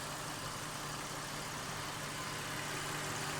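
A car engine idles steadily and evenly after being rinsed with water, a constant low rumble with no voices.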